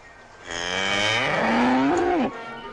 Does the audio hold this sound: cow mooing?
yes